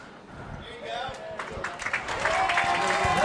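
Crowd applause from the stands at an MIAA championship soccer match against Curley, building over a few seconds into broad, steady clapping with some tonal crowd noise, heard at a distance.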